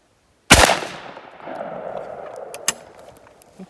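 A single loud 12 gauge shot of high-velocity #1 buckshot, 1 ounce load, fired at an outdoor range at 15 yards: a sharp close blast with a long rumbling echo decaying over several seconds, then a few faint clicks.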